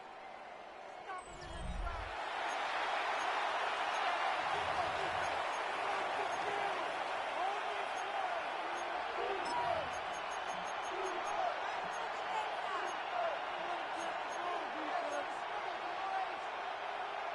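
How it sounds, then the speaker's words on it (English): A Madden NFL playoff game's stadium crowd swells into a continuous roar after a few low thumps, then holds at a steady, full level under faint sporadic accents. "The crowd making their presence felt."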